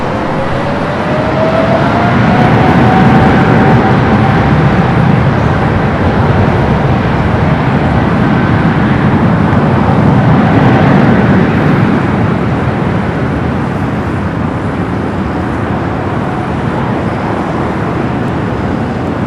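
An Air France airliner arriving at LAX from London Heathrow roars loud and steady, with a broad engine rumble and a faint rising whine that swells and eases over the span.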